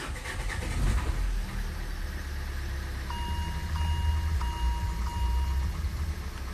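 A Renault car engine starts and runs at a steady idle close by, with a low continuous rumble and a few faint electronic beeps partway through.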